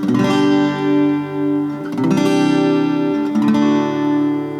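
Gentle strums on a 40-inch Martinlee MD-400c acoustic-electric guitar, soft and even, letting chords ring warmly with a few light re-strikes; no voices.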